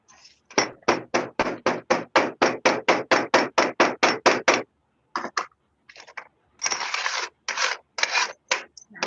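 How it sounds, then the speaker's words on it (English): A hammer packs clay around faceted stones in a cast-in-place setting, striking in a fast, even run of about twenty sharp close taps, then a pause and a few scattered taps mixed with scraping. "Now I can just use handfuls of clay to pack the rest of it in and use a hammer."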